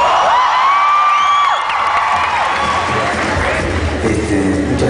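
Concert audience at a show cheering and whooping loudly, with a dense roar of crowd voices and scattered shouts sustained throughout, applause mixed underneath.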